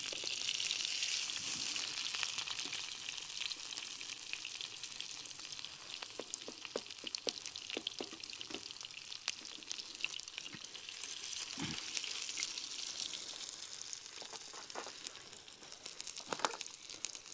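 Sausages sizzle and crackle in a pan on a Woodburn camping stove at a solo woodland wild camp, a steady close frying hiss with occasional sharper pops and scrapes as they are turned.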